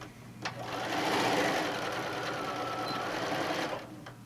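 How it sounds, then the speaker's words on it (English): A sewing machine runs a straight stitch across a tote bag panel, one continuous whirring burst of about three seconds, fairly quiet and close, with brief clicks at the start and end. "But we're just going to sew straight across."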